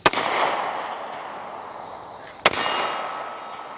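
A Kimber Micro 9 compact handgun fires two sharp, loud shots about two and a half seconds apart, and each crack is followed by a long echoing outdoor rumble.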